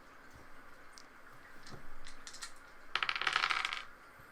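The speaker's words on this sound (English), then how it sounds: "Roll your dice." Dice clatter on a tabletop during a family fantasy board game, Andor, with several light taps followed by a brighter rattling tumble near the end, quiet and close.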